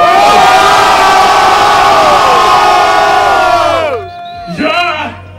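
A loud crowd at a rap battle roars and shouts in a dense, sustained wall of cheering to vote, then fades. A brief burst of shouting follows near the end.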